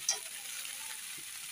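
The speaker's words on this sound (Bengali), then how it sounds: "সব কিছু আমি একসঙ্গে ভালো করে এখন কষিয়ে নিচ্ছি।" Spices and vegetables being sautéed in oil in a pan for a cauliflower curry, a soft steady sizzle with a brief scrape of stirring at the start.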